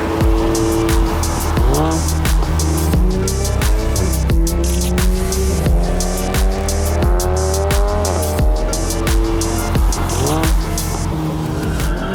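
VW Golf 7 GTI Stage 2 accelerating hard, engine pitch climbing through several gears with quick shift drops between pulls, loud and close from inside the car with a continuous roar.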